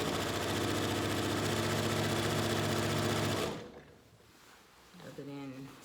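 A sewing machine races at full speed while quilting a jelly roll race quilt, a loud steady whir for about three and a half seconds before cutting off, followed by a brief voice.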